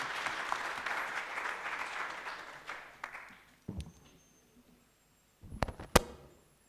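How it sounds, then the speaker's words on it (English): Audience applause at a Gender Desk dialogue event on engaging men against gender-based violence, a sustained broad clatter of clapping for about three seconds that fades out, followed by a few scattered sharp claps and knocks. "A round of applause for Madimeja"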